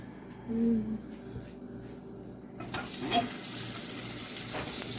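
Butter melts in a hot pan, silent at first with a brief murmur of voice, then a sudden, steady hiss of sizzling that continues to the end as the pan is swirled.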